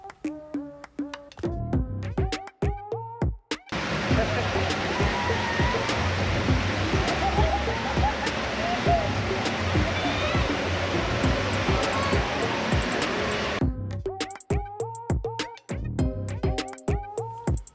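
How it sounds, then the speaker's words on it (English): Water park with splashing slides and a wave pool: a dense, continuous roar of rushing and splashing water fills the middle ten seconds, loud and steady, framed by music before and after. "The water slides, the surfings, the lazy river, wave pool, and more."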